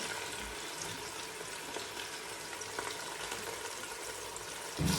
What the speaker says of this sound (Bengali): আমার পেঁয়াজ কাটা ভালোই ধোয়া হচ্ছে